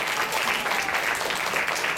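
Dense, steady applause from a concert audience at a student guitar club show, many hands clapping continuously at close range throughout, with no speech over it.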